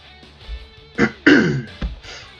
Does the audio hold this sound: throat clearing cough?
yes